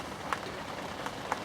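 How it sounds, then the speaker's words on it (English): Heavy rain pours down at a carp fishery lakeside, a soft, even hiss of drops with a few louder splashes, fairly faint and steady, no voices. "it's pouring down with rain"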